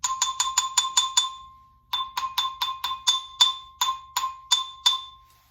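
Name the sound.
xylophone played with hard mallets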